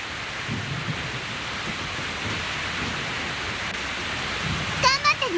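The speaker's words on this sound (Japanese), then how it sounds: "雨、止まないよね。" Heavy rain pours down steadily in a dense hiss while low rolls of thunder rumble through it, ending with a few stronger thumps and a short sharp sound.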